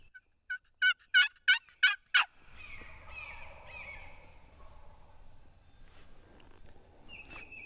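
Several wild turkeys gobble in Missouri spring woods, a run of six loud, rapid gobbles from a nearby bird, then quieter rustling and a more distant gobble or call later on, with no talk.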